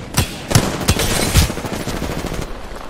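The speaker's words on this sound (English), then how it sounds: "Taking shots." Bursts of gunfire in the video game Apex Legends, several sharp close shots in quick succession over a steady loud background of game noise.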